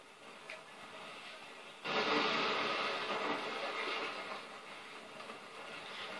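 A video game train rumbles with steady hissing noise, quieter at first, then louder and denser after a couple of seconds, with no talking.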